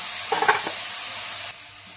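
Onions sautéed in a pan give a brief stir with a clink of the spoon, then a soft steady sizzle that drops quieter after a moment, close and without talk.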